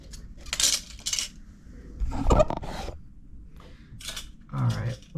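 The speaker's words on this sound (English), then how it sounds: "it's all just plastic cutlery" Plastic cutlery clatters and scrapes against a takeaway meal in a few short bursts, close by, with voices talking in between.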